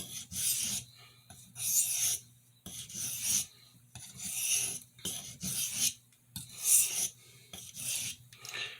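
A paring knife is drawn across a sharpening stone in single strokes, each a distinct raspy scrape with short pauses between, close and fairly quiet, about eight passes in a row.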